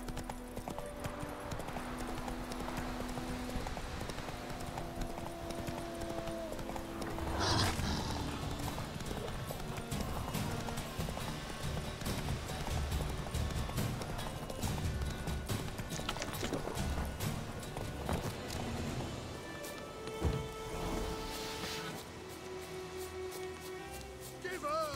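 Clip-clop of a horse galloping in The Witcher 3, steady rapid hoofbeats running throughout with occasional mechanical clicks and game sounds, while a voice talks over it.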